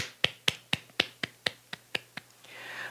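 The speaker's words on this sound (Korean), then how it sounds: "우리 하나님께 감사의 박수 올리겠습니다" At a church service, a congregation claps thanks in a slow, sharp, evenly spaced rhythm, about nine crisp claps, before a soft noise swells at the end.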